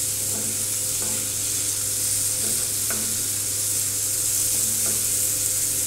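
Ingredients for dhaba-style scrambled egg frying on a tawa, a steady, dense sizzle up close with a few soft clicks of a utensil scattered through it, no voices.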